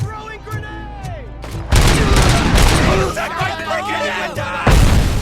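A grenade blast and heavy gunfire erupt in a RoboCop: Rogue City firefight, with loud close bursts and booms and shouted voices layered over the combat.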